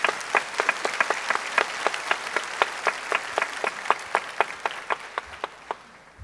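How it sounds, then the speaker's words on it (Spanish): Audience applause at a business development panel, a steady run of distinct, fairly close hand claps that rises and then thins out toward the end, with no talking. "yo quisiera también pues, que les diéramos un aplauso por ese liderazgo"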